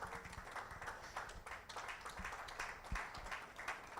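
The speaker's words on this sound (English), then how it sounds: "Let's keep clapping until they settle down" Audience clapping steadily at an honorary doctorate conferment ceremony in Lagos, a faint, continuous patter of many hands with no voices over it.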